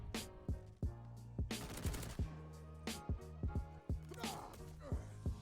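Automatic gunfire from a full-auto G-43 rifle in Call of Duty Vanguard, sharp repeated bursts of shots that rise and fall across the clip, heard over game sounds and a steady musical backing.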